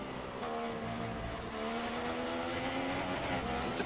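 Mercedes Formula 1 car lapping the Hockenheimring in the F1 16 racing game, a steady high engine whine held at speed with slight pitch shifts, moderately quiet and with no talk.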